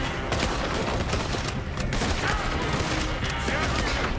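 Dense, continuous gunfire in Red Dead Redemption 2 during a shootout in the town of Van Horn, overlapping rapid shots forming a loud fusillade with no letup across the clip.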